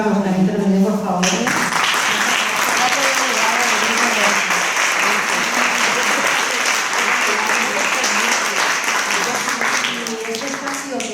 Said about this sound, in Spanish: aprovechamos mientras tanto un aplauso para los que han intervenido, por favor